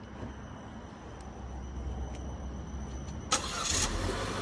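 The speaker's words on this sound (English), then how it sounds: "One click of this button, you hold it down, she will start" A 2020 Chevy Trax LT with an automatic push-button starter turns over and fires up, a quiet background hum giving way to a sudden engine catch near the end, then a steady idle.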